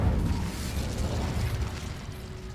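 Incendio fire spell cast in Hogwarts Legacy, a dense whooshing burst with crackling, rumbling low end that holds steady and loud through the whole short stretch, with no voice over it.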